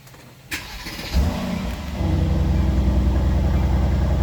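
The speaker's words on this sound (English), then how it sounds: "I'm going to start the car and see if this thing works." A Mercedes GLC car engine cranks briefly, then catches and settles into a steady, loud idle rumble up close.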